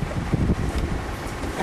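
Wind blowing near a river outdoors, a rough low rumble of gusts buffeting the microphone, fairly close and steady over a short stretch with no voices.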